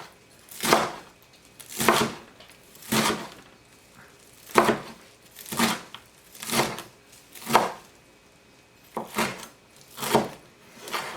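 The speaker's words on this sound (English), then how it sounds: "just kind of chop it up" Parsley rolled into a tight log is chopped with a knife on a board, about a dozen crisp, evenly spaced cuts in a steady rhythm, close and clear with no talking.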